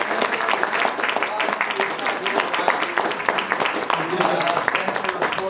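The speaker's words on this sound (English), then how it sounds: "great applause for the" Audience applause at a comic expo premiere, a dense continuous wash of clapping from a crowd that stays steady and loud throughout, with a little cheering mixed in.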